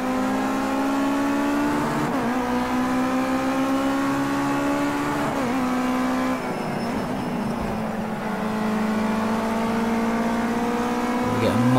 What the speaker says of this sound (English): Absolutely killing the engine, as you can hear, on the limiter.